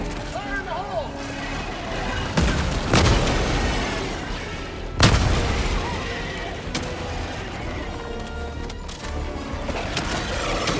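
A grenade blast in the video game Helldivers 2 during combat against bug enemies, one of several loud booms with rumbling tails amid dense gunfire and game noise, while a voice shouts callouts.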